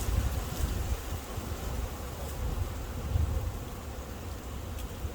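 A honeybee swarm moving into a swarm trap outdoors, a dense, continuous buzzing drone of many bees close by with a faint breeze and no talking.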